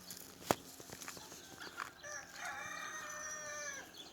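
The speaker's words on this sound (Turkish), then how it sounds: "Bir yerden tavuk sesi, bir taraftan inek sesi." A rooster crows in the distance in a village setting, its drawn-out call rising after a sharp knock, with soft ambient outdoor noise around it.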